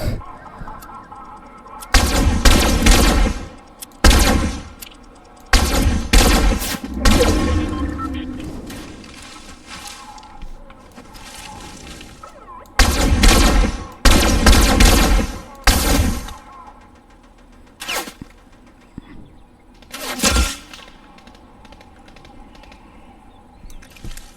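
Loud bursts of gunfire in the video game Fortnite come in several rapid volleys with short pauses between them, and a few isolated shots follow.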